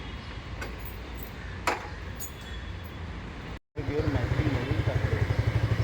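A motorcycle runs with a low, pulsing engine note, first muffled and steady, then after a brief cut louder and closer with rhythmic throbbing; a voice speaks over it.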